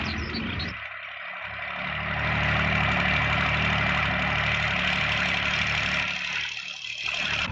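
A helicopter's piston engine idles steadily after start-up, with a throaty, even drone, rising slightly in intensity partway through and holding constant, close and loud; 1967, Shannon Airport, Ireland.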